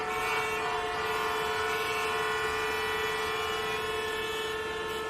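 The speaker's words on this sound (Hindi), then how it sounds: "पीछे से लोग हॉर्न बजाए जा रहे हैं।" Vehicle horns blaring in a stopped traffic jam on a highway near a toll, a sustained, loud tonal honk held continuously over a rumbling background.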